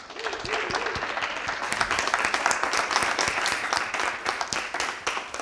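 Sustained audience applause welcoming a professional jury at a televised quarter-final of an entrepreneurship competition in Burkina Faso, dense steady clapping throughout with a few faint voices mixed in.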